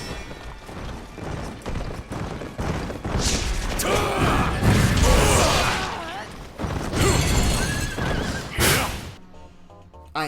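A horse neighs and whinnies loudly during a chaotic Wo Long: Fallen Dynasty boss fight, mixed with clashing combat effects and game music, with the din cutting off abruptly near the end.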